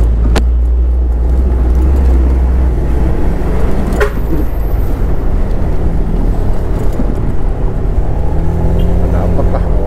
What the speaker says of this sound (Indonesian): Lumayan nih macet, panjang banget dari belakang tadi.